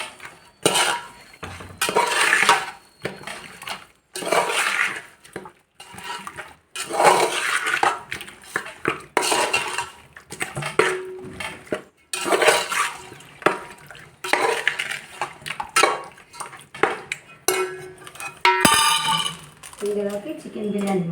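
Food is stirred in a pot while chicken biryani is being made, with irregular scraping and clanking of a utensil against the metal in bursts separated by short pauses.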